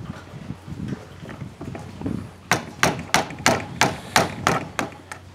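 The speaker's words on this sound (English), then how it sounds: "I'm going to use a ball starter to get it started and just a plain hammer to get it to go down into" A plain hammer taps a ball starter to drive a ball down the barrel of a homemade black powder pistol, eight or so sharp, evenly spaced metallic knocks following softer handling noises.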